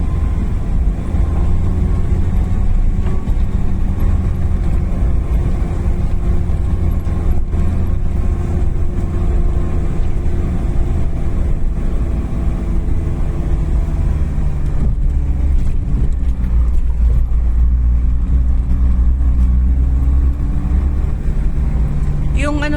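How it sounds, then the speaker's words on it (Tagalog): A vehicle driven by a farmer in the countryside gives off a loud, continuous engine drone and road rumble, holding steady with slight shifts in pitch as it travels. "Yung ingay ng sasakyan."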